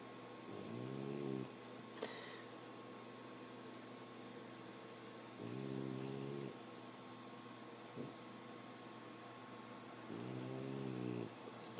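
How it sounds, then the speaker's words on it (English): A puppy snores in three slow, rhythmic bursts spaced a few seconds apart, each a buzzy rasp standing clear of a quiet room hiss, with a small click between them. "What's all this snoring about?"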